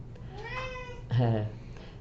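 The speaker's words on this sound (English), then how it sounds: "Hush, cat." A house cat lets out two distinct meows, the second louder and closer, with faint room background between them and no talking.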